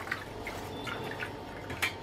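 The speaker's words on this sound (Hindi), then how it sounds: "इसके ऊपर हम रूम टेम्परेचर का पानी डाल देंगे ताकि चावल कुक होने की प्रोसेस बंद हो जाए।" Room-temperature water trickles and drips over cooked rice draining in a strainer, a steady splashing wash with scattered brighter drips, close and alone.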